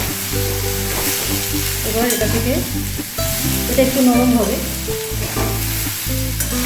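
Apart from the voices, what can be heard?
frying kochu loti (taro stolons) in a pan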